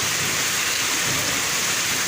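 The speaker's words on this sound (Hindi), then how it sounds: "इतनी तेज़ बारिश ही माशाल्लाह" Heavy rain pours onto streets and alleys during a downpour at a shrine gathering, a dense steady hiss that stays loud and constant throughout, with no voices.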